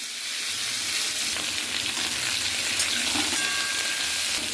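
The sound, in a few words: snake gourd frying in oil with nigella seeds in a wok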